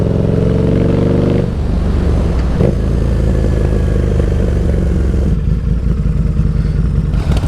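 Engine of a 2017 Harley-Davidson V-Rod Night Rod on a test ride, loud and close, a low steady roar with a shift and rev change early on, then continuous riding drone with wind rush.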